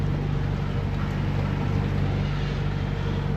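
Boat engine running at 1500 rpm while motoring off Guadeloupe, a steady, unbroken low drone with a constant hum, loud and close, with no talk over it.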